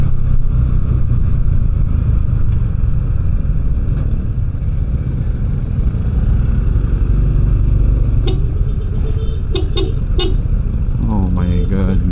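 Congested road traffic on a crowded, flooded street: steady engine rumble of idling and creeping vehicles, with several short horn toots and a motorcycle near the end, voices talking over it.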